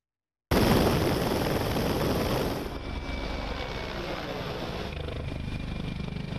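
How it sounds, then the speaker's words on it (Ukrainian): Attack helicopters circle overhead in a military operation zone, giving a steady, loud broadband rotor and engine roar that sets in abruptly and continues, easing slightly after a few seconds but staying dense throughout. "У небі нарізають кола ударні гелікоптери"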